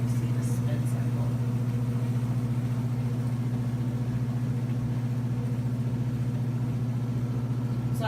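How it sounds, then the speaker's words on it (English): Giantex portable compact full-automatic washing machine running its spin cycle, a steady loud motor hum with a pulsing low drone that holds evenly throughout, close by and uninterrupted. "So I just at least want you to see the spin cycle."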